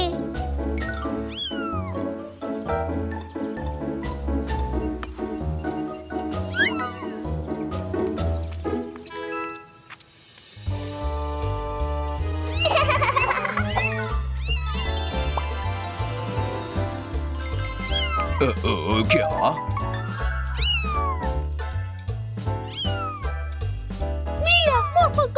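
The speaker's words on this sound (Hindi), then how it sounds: "मॉर्फल को बिल्ली के बच्चे मिले। ये काफी क्यूट हैं।" Cartoon kittens meow in high, bright calls over a steady music backing, with several meows stacking up in the second half and a brief line of speech near the middle.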